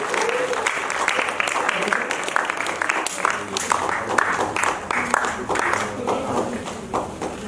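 Applause rings out from a theater festival audience as a guest of honour is recognised, lively uneven clapping with distinct sharp claps, mixed with voices talking over it.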